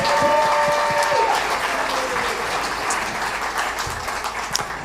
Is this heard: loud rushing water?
no